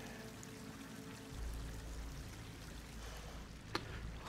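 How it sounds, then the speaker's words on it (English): Water pouring into an enclosed space in the video game Horizon Forbidden West, a faint continuous stream and trickle, steady and distant, with a brief sharper splash near the end. "Water's coming in."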